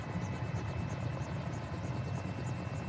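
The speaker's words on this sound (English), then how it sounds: "this is an awesome little helicopter to fly in" A small helicopter flies in Microsoft Flight Simulator, its rotor beating in a fast, steady chop over a deep engine drone and a thin whine, loud and constant throughout with no speech.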